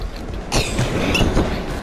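A train in the video game Gang Beasts rushes past with a steady rumbling roar and a sharp whoosh as it arrives, loud and close, with faint game sounds mixed in.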